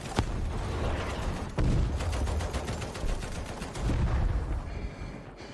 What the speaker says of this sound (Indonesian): sedang terjadi huru-hara suara tembakan ke sana ke sini yang sangat amat mengkhawatirkan